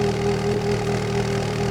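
Mini Coupe with the John Cooper Works package idling through its Cooper Works exhaust, a steady low rumble that stays even and close throughout without any revving.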